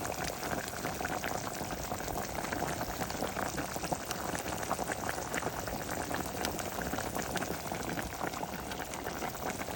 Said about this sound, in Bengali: মাংসটা ভালোভাবে কষিয়ে নিব